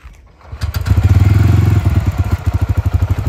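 A Bajaj CNG motorcycle engine starts up and settles into a loud, close idle with a steady, throbbing put-put rhythm.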